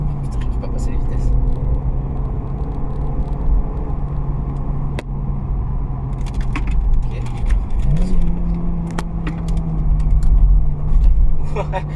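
A 2019 Ford Kuga running on E85 ethanol, its engine rumbling inside the cabin while the driver fumbles the gear changes. Revs drop and then climb with a rising whine, and a voice talks quietly over it.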